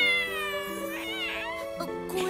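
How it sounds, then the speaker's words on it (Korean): A cartoon cat gives a drawn-out, wavering meow that rises and bends for about two seconds, clear and close over a faint background. "고양이네"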